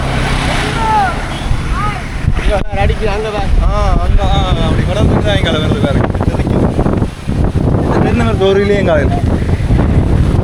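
Strong wind gusts buffet the microphone with heavy rumbling near the sea in Sri Lanka, while people talk loudly over it nearly the whole time.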